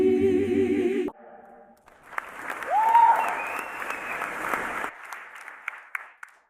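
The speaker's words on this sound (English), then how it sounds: "S'il vous plaît, applaudissez pour la chorale Ekandji Soft Power." Audience applause for a choir, a dense wash of clapping and cheering that rises after a brief musical ending and continues at moderate loudness with a whoop heard over it.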